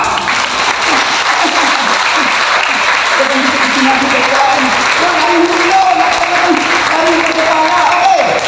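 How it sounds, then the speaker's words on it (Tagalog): A church congregation bursts into sustained, loud clapping at a worship service, with voices calling out over the dense applause throughout. "Pumalakpak!"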